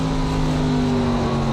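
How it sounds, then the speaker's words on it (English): Race car engine at full throttle on an oval course, a loud steady howl held in one gear with slight undulation, close and continuous with no talk. "you can listen to the undulation really of the engine note along this course"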